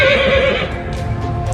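A horse neighs loudly and close by, a long rising-and-falling whinny that fills the first half before trailing into quieter snorting and shuffling.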